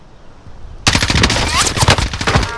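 Rapid automatic gunfire from Call of Duty Warzone on Rebirth Island bursts in suddenly after a quiet moment, loud and close, in dense repeated shots.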